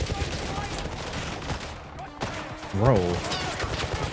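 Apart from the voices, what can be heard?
gunfire in a video game trailer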